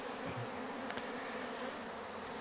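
Honeybees swarming around a hive as honey is pulled, a steady dense buzzing hum close to the listener with no voices.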